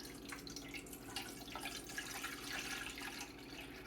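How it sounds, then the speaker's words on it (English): Water runs and splashes steadily into a Technivorm Moccamaster coffee maker, a continuous close trickle with small drips and gurgles throughout. "First, pour the water in."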